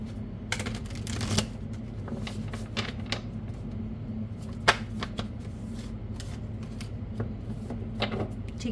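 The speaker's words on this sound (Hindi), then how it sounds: "थोड़े से कार्ड्स और ले लेते हैं" Tarot cards being shuffled and drawn by hand, a steady soft riffling and slapping of card stock with occasional sharper snaps, close and continuous over a low steady hum.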